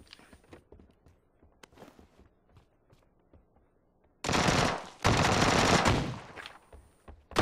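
Automatic gunfire in the shooter game PUBG, faint scattered shots at first, then two loud sustained bursts of rapid fire close by lasting a couple of seconds each.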